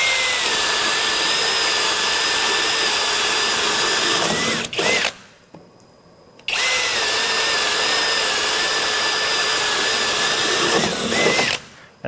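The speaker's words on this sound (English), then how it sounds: "we expect a smooth cut with any auger bit like this" A Kobalt XTR drill spins a self-feeding auger bit through wood in two long, loud, steady whirring runs separated by a short pause, close up with no talk.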